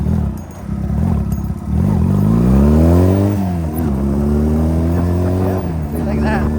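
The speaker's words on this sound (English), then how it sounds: "It's just a fun little bike to have around." A Honda Rebel motorcycle engine idles, then revs up with a rising drone and settles into a steady ride, loud and close with some mechanical clatter.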